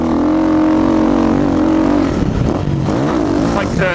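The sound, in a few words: motocross bike engine at full throttle on a track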